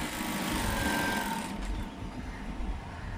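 A sewing machine stitches two layers of fabric for an inner skirt, its motor whirring loud and continuous nearby before the pitch drops and it slows toward the end.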